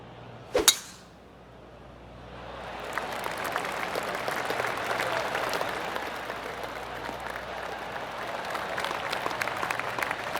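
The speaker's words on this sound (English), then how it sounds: "Oh, I can hear the golf claps around the course." Golf gallery applause in the PGA Tour 2K25 video game at the Arnold Palmer Invitational, a sharp clack at the start, then a broad, steady wash of clapping from spectators around the course building and holding.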